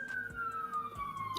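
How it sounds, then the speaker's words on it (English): A police siren wails outside, a steady falling tone sweeping across the short stretch at moderate distance, with no speech over it. "these goddamn sirens are busting my ass"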